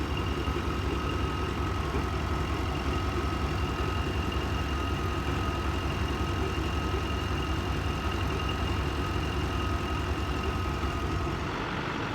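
A car engine idles steadily with the power steering pump running under the hood, a constant close droning hum with a faint whine, no talking.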